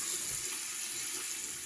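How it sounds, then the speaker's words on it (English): A brand new bathroom sink faucet runs right after the water was shut off at the main, giving a loud, steady hissing gush of water mixed with sputtering air, close by with no talk. "there's air coming out because we shut the water at the main"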